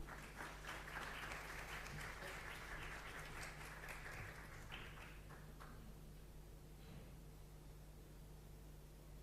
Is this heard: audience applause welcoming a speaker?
yes